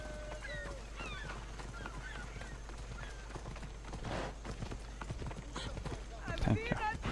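A horse gallops in Assassin's Creed Odyssey, its rapid hoofbeats mixed with voices and honking, bird-like calls, growing louder near the end.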